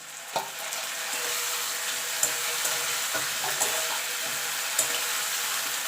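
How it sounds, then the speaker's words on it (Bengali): Onions frying in a pan with ginger-garlic paste being added for a spicy egg curry with cauliflower, giving a steady close sizzle with a few sharp clinks and stirring scrapes. "এখানে পেঁয়াজটা ভাজা ভাজা হয়ে গেছে এবার আমি দিয়ে দেবো আদা রসুন বাটা"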